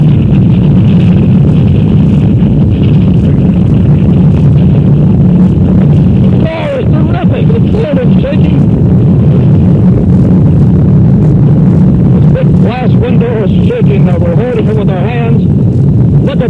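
Apollo 4's Saturn V rocket lifts off with a loud, continuous low roar that fills the whole stretch, heavily distorted and buffeting the microphone, while a commentator talks excitedly over it throughout.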